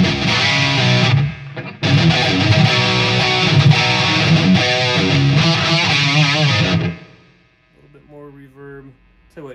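Sustained, heavily distorted electric guitar chords through a Line 6 HX Stomp and tube amp expander wash into a long reverberant tail, then a few quieter notes ring out near the end.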